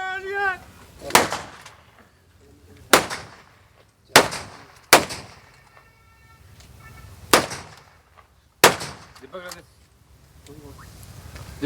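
Guards fire a rifle volley at a military funeral for a fallen soldier, six sharp, loud shots spaced over several seconds, each ringing out briefly between spoken commands.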